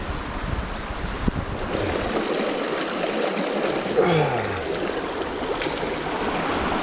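Mountain stream water flowing steadily on a Tahoe rim bikepacking trail, a continuous close wash of running water with a brief mechanical whine partway through.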